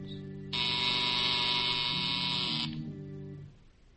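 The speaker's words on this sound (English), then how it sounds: "K-12 watches those lights intently some moments before a buzzer sounds." A harsh, steady electric buzzer blares for about two seconds over a low droning hum, then cuts off abruptly while the hum fades.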